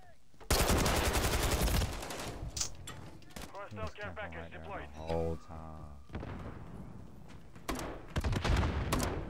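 Enemy gunfire in a video game comes in loud rapid bursts at the start and end, with a voice talking in the quieter middle stretch between volleys.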